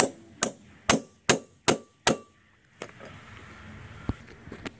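Sharp metallic clangs of a hammer tapping a car part loose from its splines during an engine swap on a Chrysler Town & Country/Dodge Caravan, five evenly spaced close strikes followed by quieter scattered knocks.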